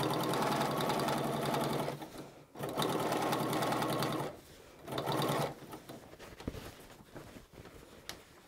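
Sewing machine understitching the facing of a dress, loud close bursts of rapid stitching in several runs separated by short pauses, ending with quieter handling sounds.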